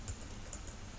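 Quick key presses on a computer keyboard, a few soft close clicks within a second over steady background noise.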